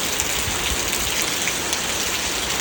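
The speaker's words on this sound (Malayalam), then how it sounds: "മഴയുടെ ശബ്ദം." Heavy nighttime rain pours down outside a home, a loud, dense, unbroken hiss of drops pattering on surfaces nearby, with no voices.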